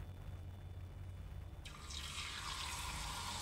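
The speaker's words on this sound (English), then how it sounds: "Coat the butter thinly and put them in the oil to deep fry." Tempura prawns and vegetables in a thin batter dropped into hot oil, setting off a sudden loud, steady sizzling hiss that keeps going over a low background hum.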